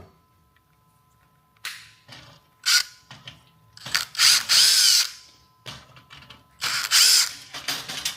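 A power drill whirs in several short bursts separated by pauses, removing door lock screws and handles, with clicks and handling noises between them, close up.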